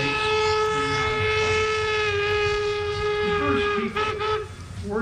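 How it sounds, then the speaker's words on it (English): Loud, sustained whistle from the historic steam locomotives Jupiter and No. 119 arriving at Promontory, with rich harmonic tones, held steadily over rumbling rail noise, with a short burst of chuffing near the end. "That was the sound of the Jupiter and number 119 trains coming into Promontory Point."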